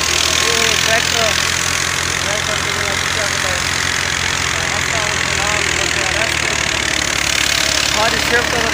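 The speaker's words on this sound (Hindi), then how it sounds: "ट्रैक्टर" A tractor engine idles near a grain thresher, a steady, continuous mechanical drone that never lets up while people talk over it.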